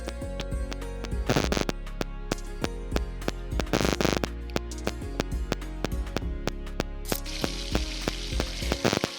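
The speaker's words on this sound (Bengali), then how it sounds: "আমি একটা কড়াইয়ে তেল গরম করে নিয়েছি। কড়াইয়ের জায়গায় এখানে তোমরা প্যানও ব্যবহার করতে পারো।" Gram-flour-coated bread frying in hot oil in a wok gives a steady sizzle broken by sharp crackling pops, with a few louder bursts of spattering, and no voices over it.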